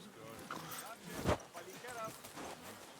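Horse hooves clip-clop in the medieval video game Kingdom Come Deliverance 2, a few soft footfalls heard under someone talking in German, with one sharper thump near the middle.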